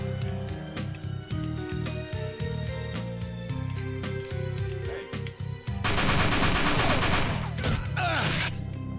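Enemy gunfire in TimeSplitters 2 Redux, a dense run of rapid sharp shots and crackling bursts that keeps going nonstop and swells louder and harsher toward the end.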